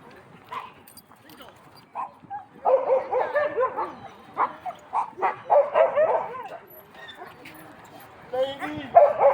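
Several dogs, including German Shepherds and a Husky, bark, yip and whimper at a dog park entrance in repeated bursts, with people talking nearby throughout.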